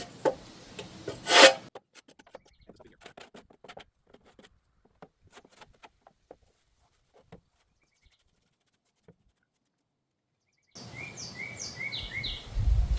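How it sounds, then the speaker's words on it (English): A metal scraper works ash off the inside of a smoker: a brief harsh scrape at the start, then scattered light scratches and taps, with birds chirping outdoors near the end. "we're just going to scrape the ash here off"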